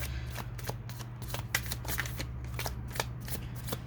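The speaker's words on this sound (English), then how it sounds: "let's just shuffle and pull your cards" Tarot cards from a Skyrim-themed deck being shuffled in quick, crisp riffles, a steady run of soft slaps and flutters close by, with a low hum underneath.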